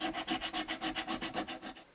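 Metal file strokes leveling the very soft frets of a First Act GarageMaster guitar, a steady rhythmic rasp of about eight even back-and-forth passes, close and fairly loud, with no talking.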